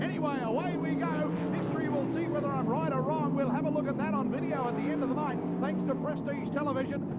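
Racing car engines drone steadily through a 1997 Queensland title race, a continuous mechanical roar that sits beneath a commentator's nonstop talk for the whole stretch.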